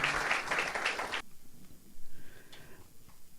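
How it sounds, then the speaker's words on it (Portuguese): Audience applause fills the first second or so, a thick burst of many hands clapping that stops abruptly, leaving a quiet room with faint scattered sounds. "Merecem palmas mesmo."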